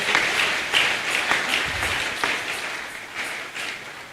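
A church congregation applauds and calls out acclamations, a dense, steady wash of clapping with a few louder swells, close and continuous throughout.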